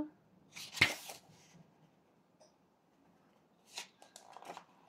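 Oracle cards riffled and flicked through by hand while searching a deck, a sharp slap of cards near the start and softer shuffling bursts toward the end, close and quiet between.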